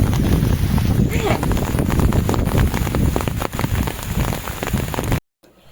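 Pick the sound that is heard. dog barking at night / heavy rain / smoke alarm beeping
heavy rain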